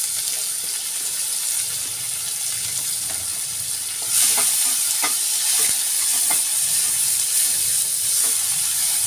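Onion frying with asafoetida in a pan for a dry sprouted moong bean dish, giving a steady close sizzle that grows louder midway, with occasional clicks of stirring and no voices.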